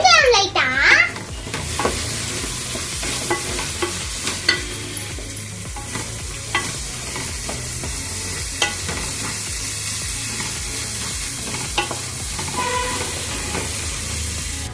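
Onion, tomato and green turkey berries sautéing in a pan, a steady close sizzle broken by scraping stirs and sharp clatters of a spoon against the pan.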